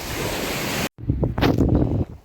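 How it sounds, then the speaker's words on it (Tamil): Sea waves and wind on a clean beach make a steady, loud broadband rush that cuts out briefly, then returns as gustier, uneven surges of surf and wind against the microphone. "அழகாக இருக்கும் இந்த கடற்கரை பார்க்குறதுக்கு பாருங்கள்"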